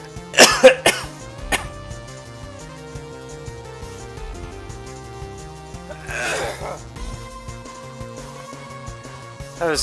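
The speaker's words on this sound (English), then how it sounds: "I am so mad, I am coughing up the storm." Several sharp coughs up close near the start, then a rougher throat-clearing cough around the middle, over steady electronic video game music from Bomberman 64.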